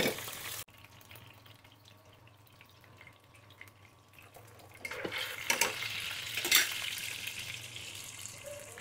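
Spices being worked by hand into pieces of desi chicken for a roast, a soft wet squelching and mixing that is faint and steady, growing louder and busier in the second half.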